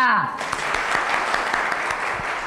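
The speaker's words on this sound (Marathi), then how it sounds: "टाळ्या." An audience at a college poetry recital claps steadily, dense applause heard up close after a brief voice at the start.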